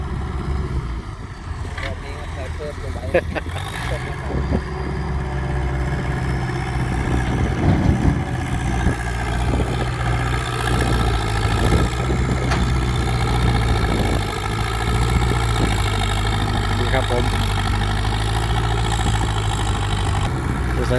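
A black ten-wheel truck idles nearby at a dirt-hauling pit, its engine giving a steady low droning hum, with wind buffeting and voices underneath.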